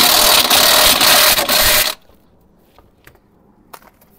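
A power tool runs hard for about two seconds, tightening the crank pulley bolt on a Skoda Octavia/Fabia engine, then cuts off, leaving faint clicks and light handling noises.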